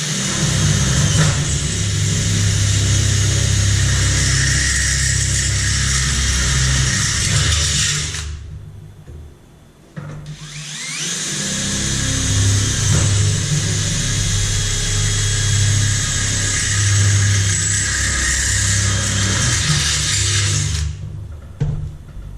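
A power drill with a 1/4 inch bit boring a hole for a beach cart bracket, whining loudly in two long sustained runs with a brief pause between them.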